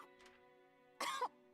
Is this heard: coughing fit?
yes